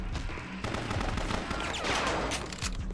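Enemy gunfire in the video game BloodRayne, a dense, continuous stream of rapid shots and impacts that fills the whole stretch without a break.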